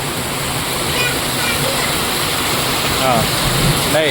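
A motorbike rides through rain-flooded road water, with loud, continuous rushing and splashing water filling the whole clip as it pushes through the flood.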